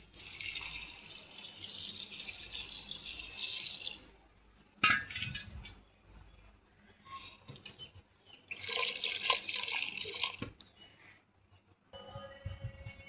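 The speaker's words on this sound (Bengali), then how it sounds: "এবারে জল দিয়ে দিই।" Water pours into a pressure cooker holding young jackfruit pieces with turmeric, in two close, splashy streams of several seconds each, with quiet clinks and handling noises in the pause between them.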